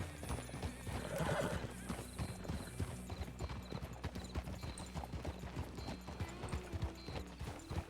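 In the video game RedM, a jumpy horse's hooves clop in a quick, uneven rhythm while it whinnies loudly early on, with game ambience underneath.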